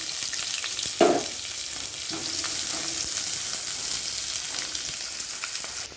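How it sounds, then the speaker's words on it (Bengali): Chopped onion and garlic fry in plenty of hot oil in a wok with nigella seeds and dried red chillies, giving a steady close sizzle with a brief louder stir-like burst near the start. "পেঁয়াজগুলোকে আমি লাল লাল করে ভেজে নেব"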